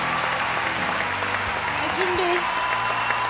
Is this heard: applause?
yes